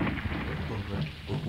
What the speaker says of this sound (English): Looks like another one of those quick rain showers.